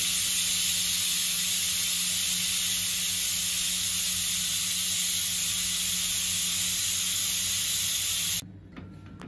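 A loud, steady hiss of steam rushes out of a pressure cooker for several seconds, then cuts off abruptly, leaving faint background noise.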